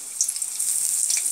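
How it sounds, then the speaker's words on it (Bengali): Onions frying in a small amount of oil, a soft steady hiss and sizzle close by, heard alone for a brief moment. "এবার আমি আস্তে আস্তে এখানে অনিয়নগুলোকে ফ্রাই করে নেব"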